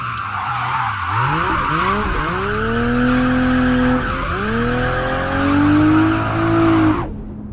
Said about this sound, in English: we can then come back off in third gear and drift round the corner